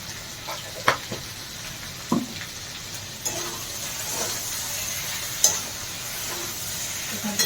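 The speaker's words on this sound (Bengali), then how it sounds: "ভালো করে ভেজে নিতে হবে মশলাটা" Masala paste, with chili powder and garlic, frying in leftover fish-frying oil in a pan: a steady close sizzle with intermittent stirring scrapes and clicks, no talk.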